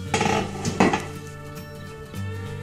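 Browned ground beef gets tipped into macaroni noodles in a pan, giving a few close clattering scrapes and knocks of a utensil against cookware, then a quieter stretch, with no talking.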